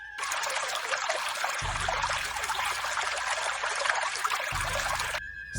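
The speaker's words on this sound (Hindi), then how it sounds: "कुछ देर बाद पेड़ों की बीच से पानी की आवाज सुनाई देने लगी।" River water flows steadily between trees near a wide dark river, a continuous trickling, splashing stream heard close and alone, with a low rumble joining partway through.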